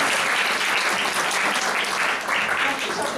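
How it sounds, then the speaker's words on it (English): A roomful of delegates at a women's leadership summit gives the panelists a round of applause, a dense and steady clapping that is fairly loud throughout the short stretch. "can we give the panelists a round of applause?"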